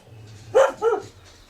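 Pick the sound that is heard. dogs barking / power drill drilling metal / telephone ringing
dogs barking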